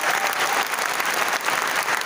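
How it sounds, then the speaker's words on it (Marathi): An audience in an auditorium at a hackathon event applauds vigorously, a loud, dense, continuous burst of clapping from many hands throughout. "एकदा जोरदार टाळ्या होऊ द्यात"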